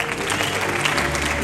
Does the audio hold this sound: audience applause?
yes